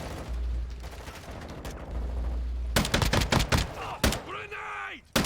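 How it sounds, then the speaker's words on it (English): Gunfire in the video game Call of Duty DMZ, a burst of rapid close shots followed by a single sharp report, heard after a low rumble and with a voice groaning briefly over it. "Jimmy, it don't matter as long as they get fucked up by a couple of bullets."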